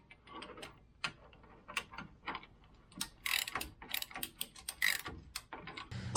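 A hand ratchet clicks in short bursts while snugging bolts on a Toyota Tacoma control arm, close and fairly quiet, with no talk.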